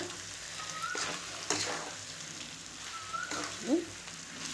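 Spicy home-style chicken curry fries in a pan with a low, steady sizzle, broken by a few soft scrapes and clinks of stirring; quiet throughout and without talk.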